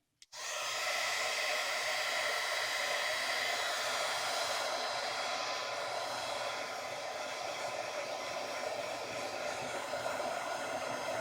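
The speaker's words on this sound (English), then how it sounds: "I'm just going to use my heat tool again and you'll see it'll be gone in a second." Heat tool blowing hot air steadily to dry stamped ink on a papercraft project, a continuous close whooshing roar that starts abruptly and holds without any talk.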